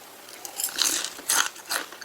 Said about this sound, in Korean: 바삭바삭해서 맛있다